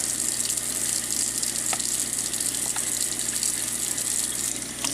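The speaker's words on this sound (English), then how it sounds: "Get some hot water going here." Hot water gushes steadily from a sink tap into the basin, a loud continuous rush with occasional small splashes and no talk.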